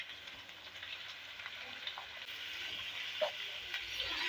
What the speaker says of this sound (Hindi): अब हम इसके अंदर ना ये बीफ का कीमा डाल देते हैं। कीमा ऐड करते हैं।